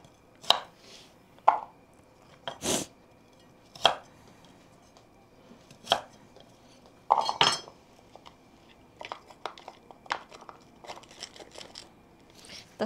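Carrots being chopped with a knife on a cutting board: a series of sharp, close knocks, irregular and sometimes in quick bursts, with faint clinks of utensils between and no talk.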